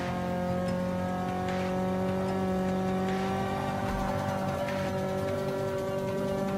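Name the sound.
small lightweight car engine at full throttle in a racing video game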